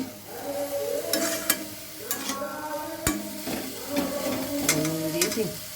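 Chicken mixture frying hard on high flame, a loud close sizzle with repeated scraping stirs and sharp spatula knocks against the pan, faint tonal sounds underneath.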